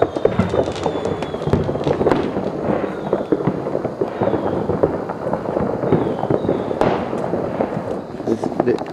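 Fireworks and firecrackers bang repeatedly through thick midnight fog, a dense run of crackling bursts near and far with occasional sharper pops, and people talk faintly underneath.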